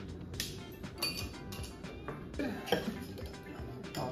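An ice cube is cracked into small bits for a Mai Tai cocktail, giving a few sharp, close clinks and cracks against glassware over a couple of seconds, with no talking.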